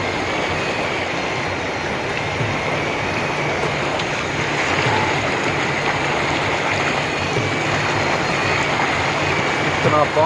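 Heavy rain pours down steadily in Lahore alongside rushing floodwater on the street, a dense, continuous hiss with no break.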